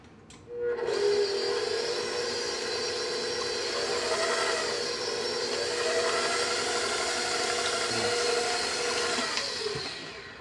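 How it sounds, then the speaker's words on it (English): A stand mixer whirs steadily as it beats gluten-free pumpkin pie filling, a loud continuous motor drone with slight rises and dips in pitch that runs for about ten seconds before winding down. "I'm using a stand mixer because I can actually turn it on, walk away for a minute"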